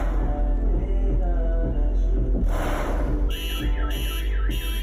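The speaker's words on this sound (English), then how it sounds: "really made a car's alarm go off" A car alarm going off, loud and close, with a repeating warbling siren that cycles through rising and falling tones and then rapid pulsed bursts over a constant low rumble.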